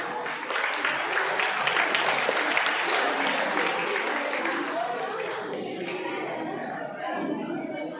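Sustained applause from an audience at a karate competition, a dense, steady clatter of many hands clapping close by, holding at even loudness for several seconds before easing slightly at the end.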